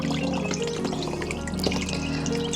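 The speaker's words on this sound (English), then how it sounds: "Just to rinse off all the drippy bits." A hand-dyed acorn-dyed item is rinsed in water, producing a steady close splashing and trickling with small drips for a few seconds.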